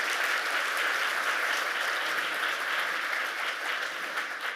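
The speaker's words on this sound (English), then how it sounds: "I think we should give a round of applause to ClioCon" A conference audience applauds steadily after a legal business talk, many hands clapping in an even, continuous wash that fades slightly toward the end.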